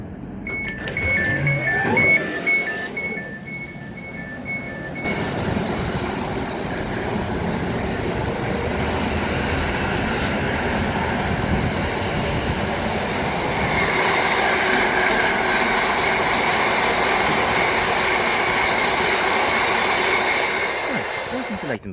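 Rumbling train noise with steady wheel and motor hum, a few faint tones early on, continuing as the train rolls along and slows pulling into Leighton Buzzard station.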